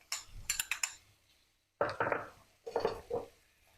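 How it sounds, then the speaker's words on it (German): A utensil stirs browned sausages with mustard and tomato paste in a frying pan, giving bursts of scraping, sizzling clatter against the pan, close by, with a short quiet gap between stirs. "Und mischen das Ganze mal in der Pfanne, um das etwas zu verteilen."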